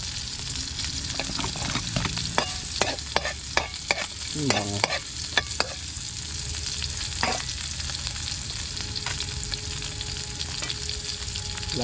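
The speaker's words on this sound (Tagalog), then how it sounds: "Bala na po yung ating isda. Ating pong gigisahin." Fish sautéing in a hot pan for a Filipino dalag dish, a steady sizzle with repeated sharp scrapes and clatters of a utensil stirring, close and fairly loud, with a brief spoken word.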